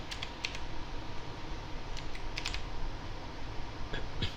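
Rapid clicking on a computer keyboard as someone types a search term in Sony Vegas, the keystrokes coming in short uneven bursts over a steady background hiss.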